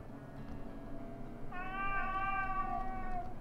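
A single drawn-out meow from a small cat in the video game Blades of Heaven rises over steady game ambience halfway through, close and clear.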